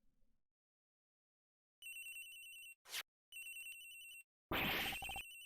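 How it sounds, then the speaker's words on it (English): A phone rings in the Ace Attorney Investigations video game, two bursts of electronic ringtone followed by a short sweep and a louder final burst, with silence between. "Agent Hicks' phone! It's ringing from somewhere, sir!"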